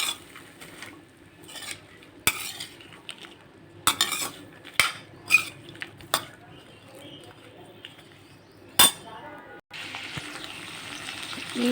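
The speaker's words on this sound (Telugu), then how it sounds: "ఇప్పుడు దీన్ని ఇలా మంచిగా మిక్స్ చేసేయాలి ఆ తాలింపునంతా కూడా" Spoon scraping and clinking in a pan as tempering is stirred into cooked, mature broad bean seeds, with scattered sharp knocks over a quiet background and a soft hiss near the end.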